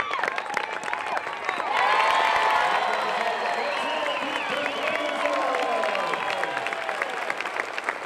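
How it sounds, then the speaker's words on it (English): Stadium crowd at Rhodes Stadium rising to its feet, cheering and applauding in a loud, sustained roar with whoops and clapping, swelling after a couple of seconds and holding steady. "with all eyes at Rhodes Stadium on Beth, she drew the crowd to their feet."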